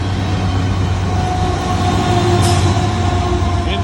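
BNSF coal train 9001 rolling past on the line, a steady loud rumble of railcars with low mechanical drone and a brief higher squeal partway through, no voices.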